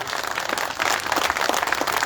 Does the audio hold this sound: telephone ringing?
no